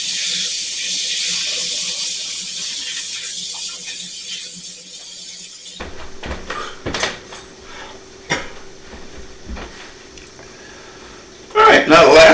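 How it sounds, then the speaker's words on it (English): Running water from a kitchen sink tap as hands are washed, a steady hiss that shifts to splashy, broken flow partway through, with brief clatters and a louder burst at the end. "let me wash my hands here"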